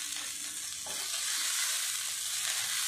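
Cooked salted kaima rice for chicken sausage rice sizzles and fries steadily in a hot pan, with a faint scrape of stirring under the continuous hiss.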